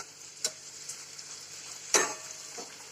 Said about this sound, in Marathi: पाणीपुरीसारख्या पापड्या आहेत त्या छान झाल्यात हो तळून